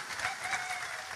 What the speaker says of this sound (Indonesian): Tepuk tangan untuk bupati kita